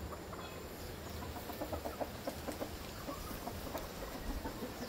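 Roundhead gamefowl chickens cluck softly in a pen of fishnet and plastic screen, short repeated calls over a steady noisy background, fairly faint.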